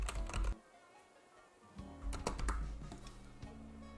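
Quick bursts of typing on a computer keyboard during an Animal Crossing: New Horizons livestream, a close clatter of keys at the start, then a quiet gap, then more irregular clicking with faint game sounds beneath.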